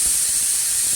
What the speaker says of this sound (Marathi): शिट्टी झाली आता कुकरची,